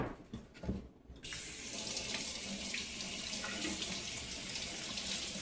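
Pinto beans rinsed under a running kitchen tap: a couple of soft handling knocks, then a steady close rush of faucet water splashing into the sink, no voices.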